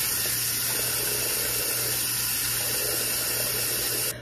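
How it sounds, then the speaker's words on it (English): Steady rush of tap water pouring from a faucet into a sink while someone rinses their face, a continuous close hiss lasting several seconds before cutting off abruptly at the end. "I'm just gonna rinse my face."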